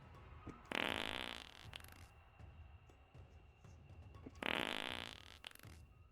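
Two loud, drawn-out flatulent blasts from a dog, the first near the start and the second toward the end, each roughly a second long, with quieter rumbling between them and no talking.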